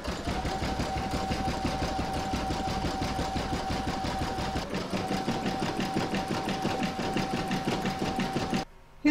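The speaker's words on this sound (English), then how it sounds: "You're now going to stitch round number 16, and that's going to do the satin stitching along the join and the remaining raw" An embroidery machine satin stitches round 16 of an in-the-hoop mandala placemat, a fast steady needle chatter with a constant hum, close and even for several seconds before stopping near the end.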